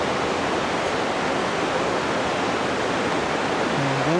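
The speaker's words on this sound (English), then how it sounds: "There's the waterfall." A waterfall in Ketchikan, Alaska roars in a steady, dense rush heard from a boat's top deck, with a faint low tone rising near the end.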